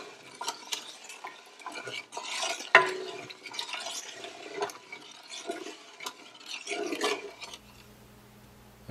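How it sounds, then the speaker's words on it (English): Buck jam mix being stirred in a pot until dissolved, a close, continuous scraping and swishing with small clinks that runs throughout and stops near the end. "Just want to keep stirring this till it's fully dissolved."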